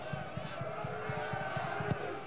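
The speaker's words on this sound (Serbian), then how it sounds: "Zvižduci navijači Severne Irske." Northern Ireland supporters at a football stadium against Serbia, a dense sustained crowd noise with whistling and rhythmic pulses during a corner kick, heard at a distance under a commentator.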